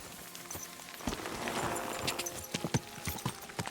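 A horse's hooves clip-clop in Kingdom Come: Deliverance II, a soft, steady run of walking hoofbeats heard at low volume.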